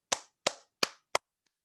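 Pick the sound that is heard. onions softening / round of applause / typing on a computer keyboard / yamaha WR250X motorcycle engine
round of applause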